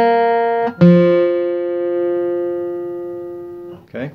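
Acoustic guitar lick from a bluegrass tune, starting with a pull-off on the downstroke: a couple of plucked notes ringing into one long sustained note, close and clear, with a brief scrape at the end.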